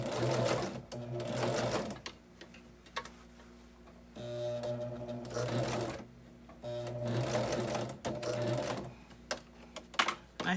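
Sewing machine stitching strips for a quilted table runner, running in bursts of rapid mechanical clatter separated by short pauses, close and clear with no talking.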